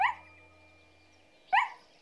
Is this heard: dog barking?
yes